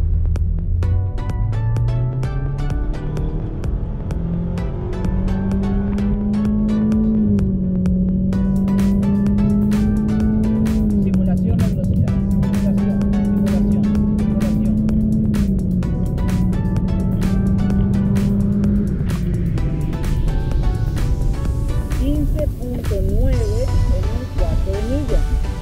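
A 2021 Honda Civic Sport accelerating hard, its engine drone climbing steeply at first and then holding a loud, steady pitch from inside the car, with a voice talking over it.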